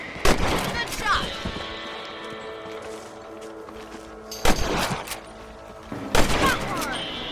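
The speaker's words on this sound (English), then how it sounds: "Get your rifle out. It's about time these little thieves met their maker. Nice shooting!" Rifle shots crack in a Red Dead Redemption hunt for rabbits, with three loud bursts of gunfire at the start, middle and end, and a steady background hum and tones running between them.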